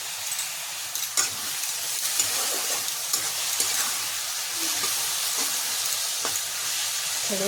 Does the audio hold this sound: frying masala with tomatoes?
yes